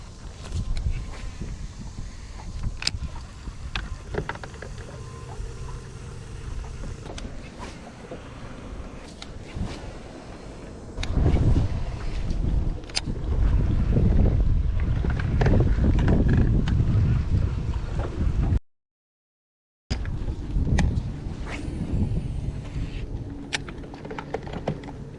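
Wind buffets a microphone on a fishing boat on a brackish-water lake, a rough, gusting low rumble that swells louder in the middle, with faint knocks and rattles on board and a brief dropout.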